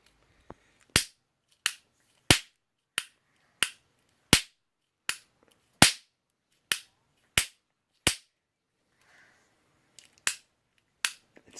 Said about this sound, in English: He's gonna shoot you with Astro Viper's gun